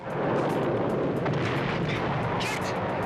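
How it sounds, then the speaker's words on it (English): Gunfire effects in a Knight Rider TV action scene: a dense, continuous barrage of loud shots and blasts, with brief sharper cracks layered over the roar. "They're still shooting at us!"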